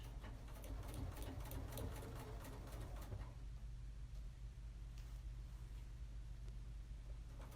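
A sewing machine runs steadily, stitching along the edge of a fabric face mask, with a loud rapid mechanical rattle for the first few seconds before settling into a quieter, softer hum.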